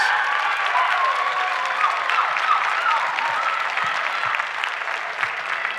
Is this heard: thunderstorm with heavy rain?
no